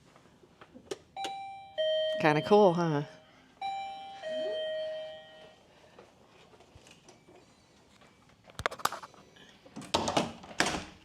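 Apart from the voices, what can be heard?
hotel room doorbell ringing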